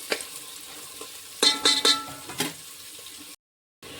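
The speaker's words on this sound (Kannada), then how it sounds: "ಎಣ್ಣೆ ಕಾಯ್ದ ನಂತರ ನಾವು ಈರುಳ್ಳಿ ಹಾಕೊಂಡ್ರೆ ಈರುಳ್ಳಿನೂ ಬೇಗ ಕಲರ್ ಚೇಂಜ್ ಆಗ್ತದೆ ರೀ" Onions frying in hot oil for a green-chilli chicken gravy, with a steady sizzle under several sharp stirring scrapes of the spatula against the pan, close and fairly loud, then a brief drop to silence.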